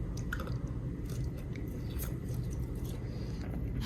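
Someone chews dried meat with a spicy teriyaki-like sauce in Thailand, soft close crunching and squishing bites repeating quietly over a low background murmur.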